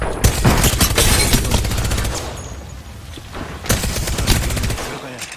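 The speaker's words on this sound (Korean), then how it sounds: "적에게 사격 개시" Apex Legends gunfire, with loud, dense bursts of automatic shots in bunches during a firefight. A low, muffled background voice sits underneath.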